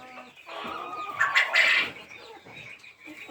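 Chickens, including young birds of mixed breeds, eating in and around a henhouse: soft clucks and chirps close by, swelling briefly into a louder burst of excited clucking midway before settling back to quieter murmuring.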